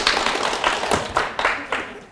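A lecture audience claps for the instructor of a Korean real-estate law class, several bursts of close, crisp handclaps spread over about two seconds, fairly loud and filling the room.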